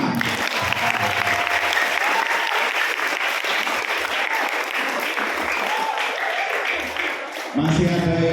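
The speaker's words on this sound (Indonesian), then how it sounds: "Tepuk tangan." Audience applause at a madrasah school assembly, loud and sustained dense clapping from a crowd that fills the whole stretch, with a brief dip near the end before it swells again.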